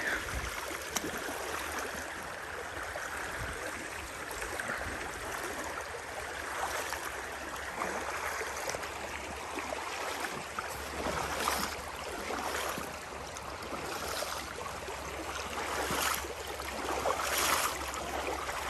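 Steady rushing of a local creek's water flowing over rocks just before a bend, a constant broadband wash with no voices, close and fairly even in loudness throughout.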